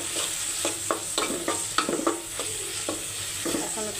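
Ginger paste with turmeric and chili powder frying in a pan, a steady close sizzle broken by repeated scraping stirs of a spoon against the metal, with no voices.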